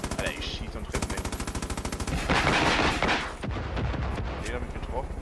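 Gunfire in the video game Far Cry New Dawn: rapid, evenly spaced automatic bursts hammer close and loud, broken by a heavier blast and more shots.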